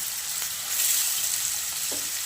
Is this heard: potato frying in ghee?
yes